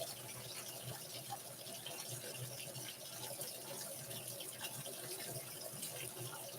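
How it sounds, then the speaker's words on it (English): A Maytag washing machine filling with water, a steady rushing gush that holds evenly throughout at moderate loudness, with no one talking over it. "the Maytag does fill very fast"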